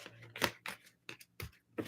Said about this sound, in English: Okay, just a few shuffles.